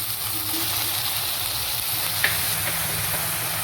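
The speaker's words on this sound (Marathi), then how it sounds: "आता याच्यात टाकू धुतलेली भाजी, धुतलेली शेपूची भाजी." Washed dill greens dropped into hot oil with fried turmeric and spice masala give a steady, close sizzle and frying hiss that runs evenly throughout, with one brief sharper crackle near the end.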